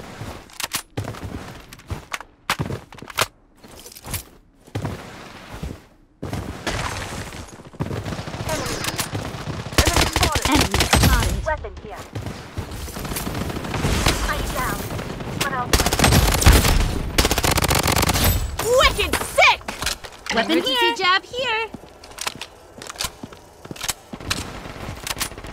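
Sustained automatic gunfire in the Blood Strike shooter game, long loud rattling bursts and scattered single shots with brief pauses, mixed with footsteps and occasional in-game voice callouts.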